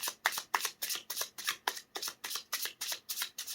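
Rapid, rhythmic riffling of tarot cards being shuffled, about a dozen quick bursts in steady succession, close up.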